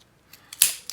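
Scissors snip through a 3D foam adhesive pad while a flower-themed flap card is being made, giving a few quick, quiet, close cuts with one sharper snip in the middle.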